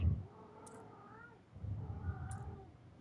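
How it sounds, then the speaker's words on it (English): A house cat meows in a few short, moderately close calls over a low background rumble, with quiet gaps between them. "Dude, this cat."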